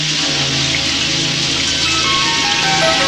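Heavy rain pours steadily and loudly in a dubbed Indonesian film scene, a dense continuous hiss of downpour with faint tonal background music beneath it and no talking.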